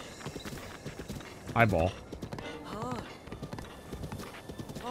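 Horse hooves clip-clop steadily in The Legend of Zelda: Breath of the Wild, with a loud whinny near the middle, while people talk over it.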